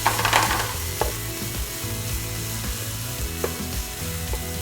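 Beef, broccoli and spring onions frying in a pan, giving a steady, close sizzle with a couple of light clicks from stirring and no talk.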